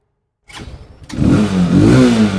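After a short silence and a click, an Ular 200cc R207M motorcycle engine starts and revs up loudly close by, the tone rising and wavering as the throttle opens.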